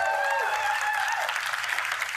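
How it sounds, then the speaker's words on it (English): Audience applause for two people, Laura and Susan, asked to stand at a Gusto accounting-firm event; a steady wash of clapping from a crowd, fairly loud and continuous throughout. "Can we give them a round of applause?"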